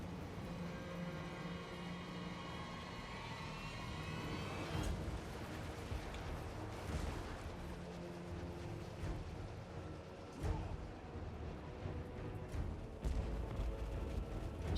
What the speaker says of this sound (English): the cannons are shooting as well, but they're getting deflected by the trees